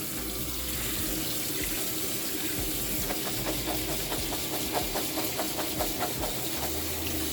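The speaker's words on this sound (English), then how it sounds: "we're going to try and rinse them until we don't see any color coming out from the bottom anymore" Tap water runs steadily over dry black beans in a sink, a continuous close hiss and splash, with small rattling clicks of beans shifting partway through.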